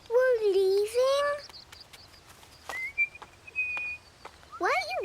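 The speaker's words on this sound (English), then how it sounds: "Why are you whistling? Well, it's like talking to the birds." A cartoon child whistles outdoors to talk to the birds: a few thin, sustained and sliding whistled notes, faint and spaced apart, with a voice talking before and after.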